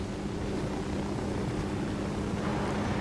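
A helicopter in the video game Ghost Recon Wildlands flies overhead, a steady whirring drone of rotor and engine that stays constant and fairly loud for the whole short stretch.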